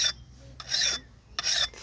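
Three rasping strokes of a blade drawn along a thick, coarse grit sharpener, each a steady pass over the whole length with short pauses between, close and fairly loud with no talking.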